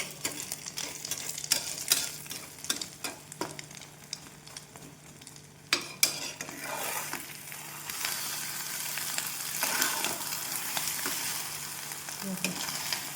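Food fries in a hot pan with a constant sizzle, broken by repeated sharp spatula clicks and scrapes as it is stirred and turned over.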